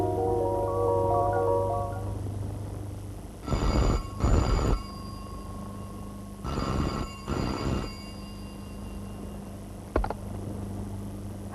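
An old-style telephone bell rings in two double bursts a few seconds apart, loud and close, over a steady low hum and faint background tones in an indoor scene from a South Indian film dubbed in Hindi.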